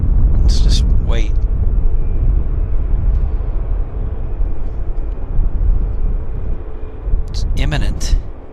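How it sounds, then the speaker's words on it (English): A Boeing 737 MAX airliner taxiing at Vancouver Airport gives a steady distant jet rumble and whine throughout, with brief bird-like chirps near the start and end. "Max is being taxied."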